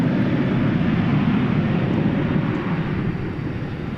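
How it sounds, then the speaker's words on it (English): Volaris Airbus A320neo airliner at DFW airport, a steady broadband jet roar holding at moderate distance, easing slightly toward the end with no voices. "It's an Airbus A320 Neo."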